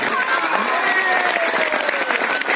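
Loud, dense clapping from a rally audience at an anti-CAA/NRC protest gathering, sustained and continuous throughout with crowd noise mixed in.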